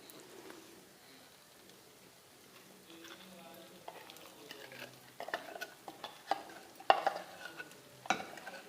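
Half-cooked chicken in a pan as a coarsely crushed spice paste goes in, with soft sizzling, then stirring scrapes and sharp utensil clinks on the pan growing busier toward the end; a voice is briefly heard.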